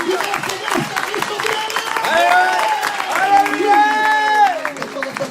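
A church congregation claps together steadily under a loud voice that speaks or sings over the applause throughout.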